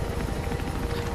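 A helicopter in the video game Mirror's Edge, its rotor throbbing in a fast, even low pulse, loud and close, with nothing else over it.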